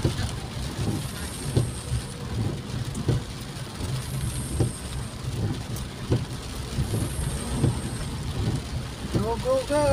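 Steady rain falls on a street while road traffic moves past, a continuous wash of hiss and low vehicle rumble with occasional thumps and a faint voice near the end.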